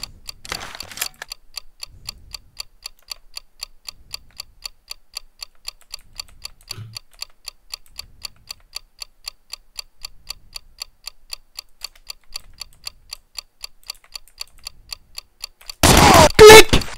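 A planted bomb in a first-person shooter ticks with sharp, evenly spaced electronic beeps that run steadily for a long stretch, ending in a sudden loud explosive burst.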